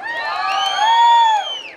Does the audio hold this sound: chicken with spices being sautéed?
no